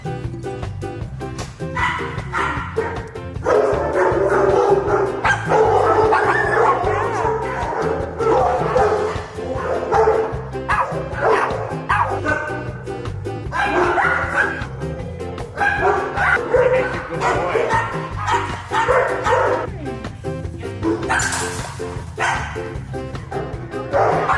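Several dogs at an animal shelter bark, yip and whimper almost nonstop, close and loud, with yelps overlapping in an uneven, excited chorus.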